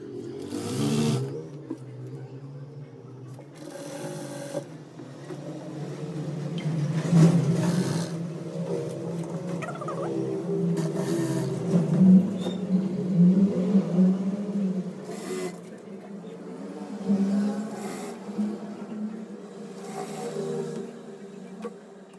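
Sewing machine running steadily as it stitches a sharara hem over stretched elastic, the fabric folded inward; a continuous close, mid-level whir with small speed changes and brief pauses, no talk.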